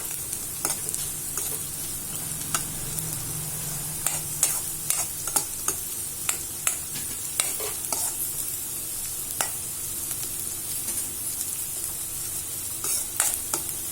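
Okra sautéing in a pan for a rice dish, a steady close sizzle with scattered scraping stirs and clicks of a spoon against the pan, heard alone without talk.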